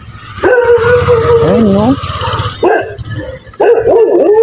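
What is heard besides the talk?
dogs barking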